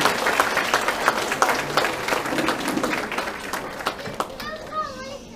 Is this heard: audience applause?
yes